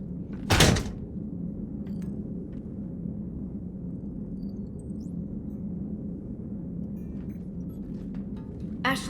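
A sci-fi door in Mass Effect opens with one sharp, loud mechanical whoosh-thunk near the start, followed by a steady low ambient hum and a few faint distant clicks.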